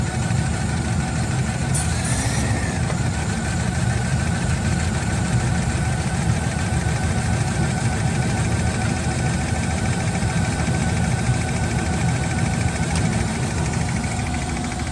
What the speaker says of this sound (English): sounds like it's a back lifter.